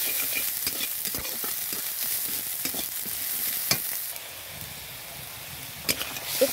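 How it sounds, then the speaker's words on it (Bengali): A spice paste of garlic and ginger paste with turmeric and chili powder frying for fish curry, heard as a steady, close sizzle broken by scraping stirs and a few sharp clinks. "ভালো করে মশলাটা কষিয়ে নিচ্ছি"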